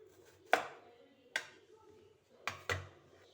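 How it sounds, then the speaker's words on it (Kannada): A knife trims the stem ends off a snake gourd with four sharp, close chopping knocks against a board, two single cuts followed by a quick pair, quiet otherwise. "ಇದನ್ನು ನಾವು 2 ಕಡೆ ಹೀಗೆ ತೊಟ್ಟನ್ನು ಕಟ್ ಮಾಡಿಕೊಳ್ಳುವ"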